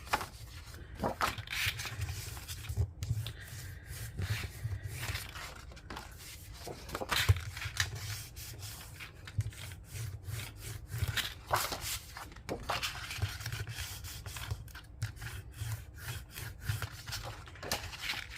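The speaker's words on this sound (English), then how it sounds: "So now these, I'll just burnish those score lines." Paper being burnished along score lines with a tool while making the base pages of an industrial grunge steampunk hybrid journal, a steady close dry rubbing and scraping that repeats in short strokes throughout.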